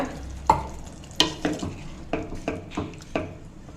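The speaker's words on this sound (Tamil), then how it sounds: "இது ஒரு 200 ml தண்ணி சேர்த்து நல்லா வேக விடுங்க, கொதிக்க விடுங்க." A pot of sambar simmers on the stove with a steady bubbling hiss, punctuated by several sharp metallic clinks of a spoon stirring against its sides.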